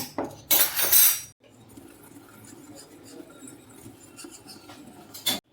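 A spoon clinks against a bowl while flour and baking powder are mixed together: a quick cluster of bright, close taps at the start, then near quiet, and one last sharp clink at the end.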